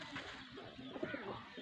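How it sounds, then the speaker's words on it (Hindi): Soft, low pigeon coos murmur close by, a few gentle rolling calls over faint background noise. "ये कबूतर है,"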